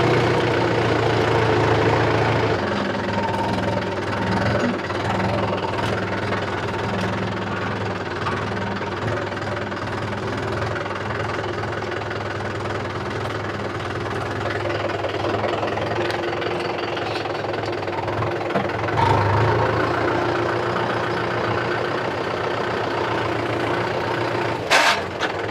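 Tractor engine idling steadily and loudly up close while soil is unloaded, a low knocking diesel rumble running throughout with a brief surge near the end.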